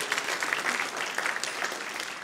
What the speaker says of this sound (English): So please give yourself a round of applause, and we'll join in.